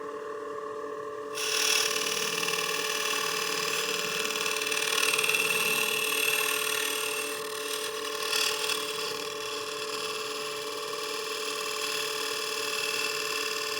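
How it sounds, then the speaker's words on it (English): A wood lathe turning a cake stand while a scraper works the surface, a steady mechanical whir and hum that starts after a short quiet moment and runs on evenly, near and constant, with no speech. "I'm going to go to my scraper"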